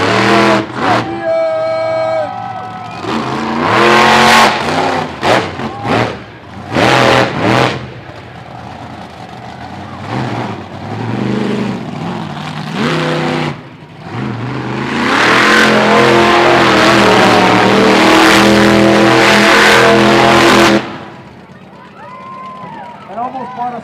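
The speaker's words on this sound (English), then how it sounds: "Monster Truck Racing Finals" Monster truck engines rev in bursts at a fairground racing final, loud and close, with crowd noise and an announcer's voice over the roaring engines.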